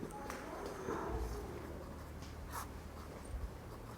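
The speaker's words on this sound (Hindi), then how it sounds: "तो थोड़ा सा मैं इनको इकट्ठा लिखने की कोशिश करूँगा।" Chalk or marker writing on a classroom board during a lesson, soft scratchy strokes and faint taps at close range, heard quietly beneath low background room noise.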